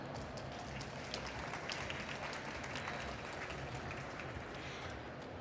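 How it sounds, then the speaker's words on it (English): An audience at a conference masterclass applauds steadily, a dense even patter of many hands that carries on throughout at a soft, distant level. "So maybe another round of applause for Stefan."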